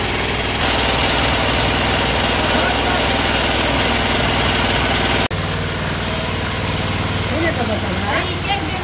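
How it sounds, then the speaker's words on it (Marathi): A farm tractor engine runs steadily behind the listener at a village farmhouse, a continuous loud droning hum with a brief dip near the middle, with voices talking over it. "ट्रॅक्टर चाललेलं आहे आपल्या माघारी,"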